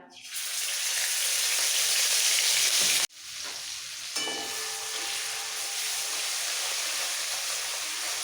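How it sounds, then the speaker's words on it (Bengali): Onion paste hitting hot oil with cumin seeds for a small fish curry, bursting into a loud, steady hiss that cuts off briefly, then resumes as a continuous sizzle with stirring. "পেঁয়াজটা হালকা একটু ভেজে নেবো তেলের মধ্যে মিক্স করে"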